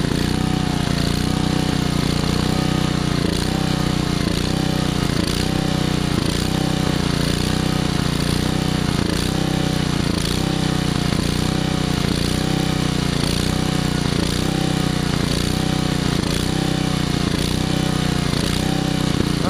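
A Generac engine runs steadily with the choke fully open while its carburetor screws are adjusted, giving a loud, continuous droning hum with a fast, even pulsing rhythm that holds throughout.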